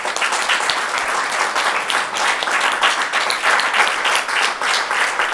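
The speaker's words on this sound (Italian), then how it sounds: "Vi chiediamo di accogliere anche lui con un applauso." A festival audience applauds in welcome of a singer, with sustained, dense clapping from a large crowd that stays full and even throughout.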